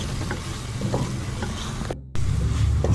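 Spaghetti masala with tomato ketchup frying over a low flame, a steady close sizzle with soft stirring scrapes and a brief dropout partway through.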